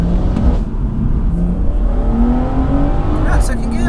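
A 420 BHP JB4-tuned BMW M240i accelerating hard at full throttle in second gear, a loud continuous engine drone rising in pitch throughout, heard from inside the car under road and wind noise.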